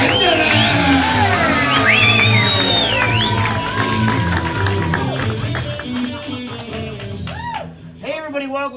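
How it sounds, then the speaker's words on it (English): A comedy-show crowd cheers, whoops and claps, with voices shouting and whistling over a loud, sustained roar that thins out toward the end. "He said as the crowd went wild"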